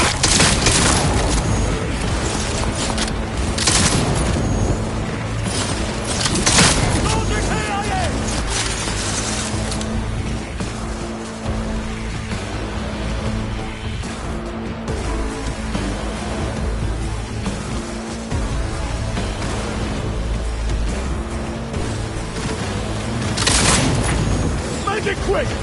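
Heavy gunfire and booming blasts in the Cyberpunk 2077 video game on PS5, loud and continuous with bursts throughout, mixed with game music and voices.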